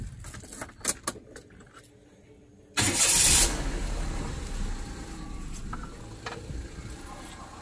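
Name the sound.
Perodua Viva car engine starting after new coil fitted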